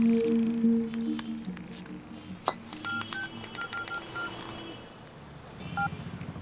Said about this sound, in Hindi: लड़कों को फोन लगा।